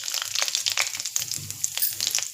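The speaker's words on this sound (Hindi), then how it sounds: "तब हम इसमें राई का तेल डालेंगे थोड़ा सा," Mustard oil sizzling in a pan of potatoes, a soft crackle and hiss with scattered pops and brief scraping, fairly quiet and close, no talking.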